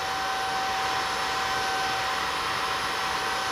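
A Eureka Elevate cordless vacuum runs on low power with its dusting brush over a table, giving a steady, even whine and airy hiss with a thin high tone, close and constant throughout, no voices.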